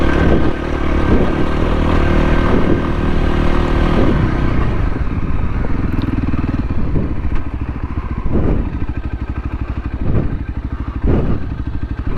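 A Voge 300 Rally motorcycle rides in second gear up and down steep off-road ground, its single-cylinder engine droning loud and close throughout, with steady throttle, a brief dip in load midway and occasional clatter from the bike.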